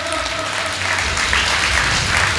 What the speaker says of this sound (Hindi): तालियां कमजोर है साहब